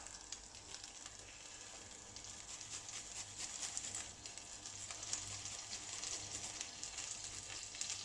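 Chopped garlic sizzles steadily in a drizzle of olive oil in a frying pan, a soft, continuous crackling hiss heard alone.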